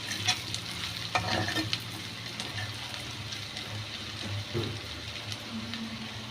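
Potatoes frying in oil flavored with fried garlic and prawn-frying oil, a steady sizzle with occasional stirring scrapes and clinks, close and alone without talk.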